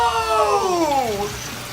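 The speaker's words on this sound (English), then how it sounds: "Chris is now going to turn on the water." Water rushing through freshly connected PVC plumbing in a saltwater fish room, a steady close gush with a falling whistling tone as the flow settles.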